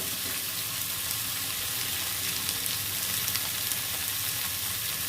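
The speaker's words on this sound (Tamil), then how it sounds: "எல்லாத்தையும் நல்லா ஒன்றா போட்டு நல்லா வேக வைக்கணும்." Bitter gourd frying in a pan with turmeric and chili powder, giving a steady, even sizzle that holds at a constant level from start to end with no voices.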